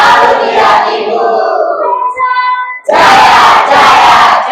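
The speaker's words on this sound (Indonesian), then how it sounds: "coba Ibu mau dengar yel-yel kalian yang semangat, yang kompak" Junior high school students chant a school cheer together in a classroom, loud and close, a group shout broken by a brief lull before the chanting surges back strongly.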